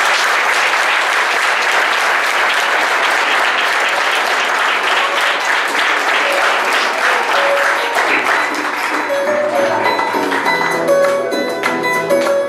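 Sustained, loud applause from a crowd at a village festival proclamation in Juncal de Tejeda, honouring the festival committee; dense clapping fills the space and near the end gives way to music playing.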